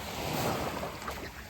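Waves washing onto a beach, a soft continuous rush of surf with wind noise, faint and steady with no voices.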